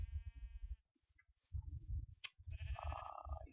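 Sheep in the block-building game Minecraft bleat several times in a row, wavering baa calls close by and moderately loud, separated by short gaps.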